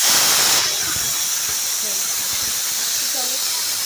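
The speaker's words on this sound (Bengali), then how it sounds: "এখন বসিয়ে দিয়েছি পটল ভাজা" Pointed gourd fries in a pan, giving a loud, continuous sizzling hiss of hot oil that stays steady throughout.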